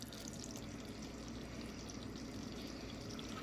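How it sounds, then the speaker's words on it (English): Toffee mixture bubbling in a pan on the stove, a steady, dense fizzing and sizzling with fine crackles, close and fairly quiet, continuous with no talk. "When it's done bubbling after 3 minutes, we're going to take it off the stove"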